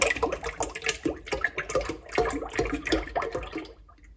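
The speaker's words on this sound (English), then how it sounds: "So I'm going to get that cream tipped in there." Heavy cream tipped from a container into a mixing bowl for homemade butter, a steady gurgling, splashing pour with uneven pulses that lasts about four seconds and tapers off at the end, with no talking.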